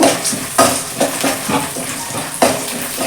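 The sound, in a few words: frying roasted gram with dry red chillies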